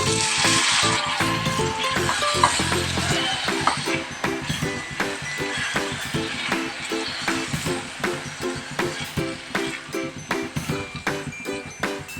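Crushed eggplant stirs and sizzles in a hot pan while vankaya pachadi is made, with a loud hiss at first that settles into a rhythmic scrape-and-sizzle of the spoon, and no talking.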